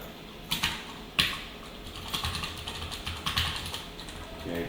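Soft computer keyboard typing while writing React code, with a few sharper isolated keystrokes followed by a denser run of quiet clicks and no voices.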